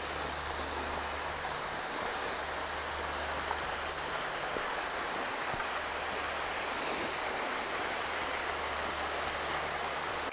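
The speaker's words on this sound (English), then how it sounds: "So I hear water ahead" Steady rushing water of Cataract Falls, a modest waterfall in the Great Smoky Mountains, fills the air with a constant broadband roar, fairly close and unbroken, with no voices.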